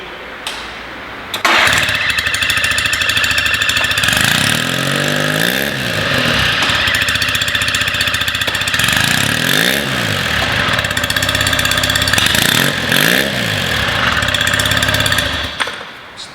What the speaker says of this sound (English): So there you go, the engine's running perfect.